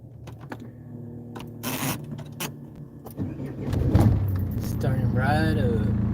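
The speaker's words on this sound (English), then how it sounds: "Starting up Van Diesel." A van's diesel engine cranks and catches, settling into a steady, close idle rumble with brief whirring and clicks, while voices talk over it.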